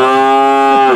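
A single loud, close cow moo, a long sustained low call held steadily for the whole second on a rural village farm with no talking.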